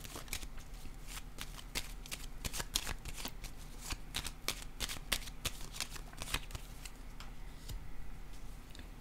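Playing cards shuffled and laid down during a card reading, a dense run of crisp, rapid flicks and snaps close up, steady throughout with no talking.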